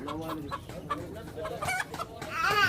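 Chickens and roosters at a Jeddah livestock market cluck and squawk in quick, uneven bursts close by. The busy market noise rises toward the end, and a voice may be faintly mixed in.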